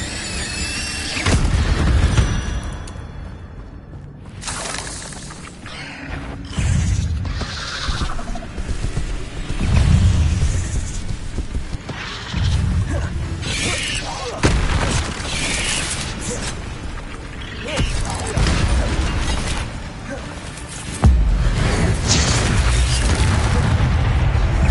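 Incendio fire spells cast in Hogwarts Legacy, bursts of whooshing flame with booming impacts and crackles repeating through a steady loud game soundscape.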